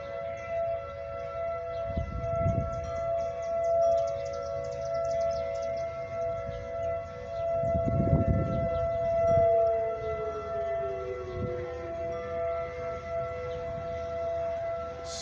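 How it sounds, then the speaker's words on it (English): Outdoor civil defense sirens sounding a tornado warning, a steady sustained wail that carries from a distance across the whole stretch, with faint ambient noise beneath and no talking. "Sirens are still going off."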